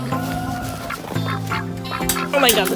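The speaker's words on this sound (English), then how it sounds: "Yeah, let's go let the duck out." A duck quacks in a series of loud nasal calls, close by, over a steady low hum and some background noise.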